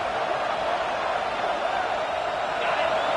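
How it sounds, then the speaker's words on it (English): A college football stadium crowd makes a steady, dense roar that holds at a constant level throughout, with no single voice standing out. "This crowd bringing the energy and noise early."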